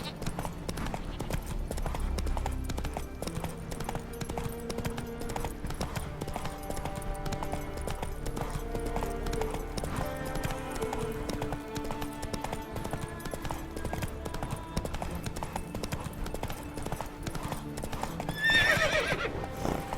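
Roach, a horse in The Witcher 3 video game, trots with steady clip-clop hoofbeats across a busy game soundscape, and a clear neigh rings out near the end.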